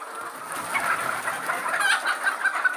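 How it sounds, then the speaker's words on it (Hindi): Chickens cluck steadily inside a poultry egg farm house, a dense chorus of many hens close by with occasional sharper calls and no talking. "देखिए पूरा पोल्ट्री मुर्गी का फार्म हाउस है।"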